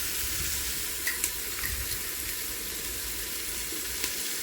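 Onions and green chillies sizzle steadily in a hot pan for a home-style chicken curry, a soft continuous frying hiss with a few faint clinks, no talking.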